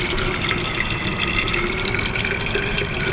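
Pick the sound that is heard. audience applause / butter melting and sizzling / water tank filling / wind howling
water tank filling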